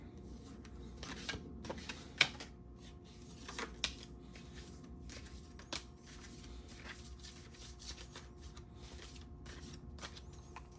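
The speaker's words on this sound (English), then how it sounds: "Okay, these have to be shuffled differently." Cards shuffled slowly and unevenly, with sparse sharp snaps and soft sliding between them over a quiet background.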